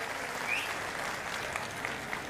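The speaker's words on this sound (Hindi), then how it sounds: "मैं चाहता हूं एक बार जोरदार ताली उनके लिए बजाएं." An audience at a Congress rally applauds a politician who has just joined the party, a continuous wash of clapping at a fairly even level with a few sharper claps standing out.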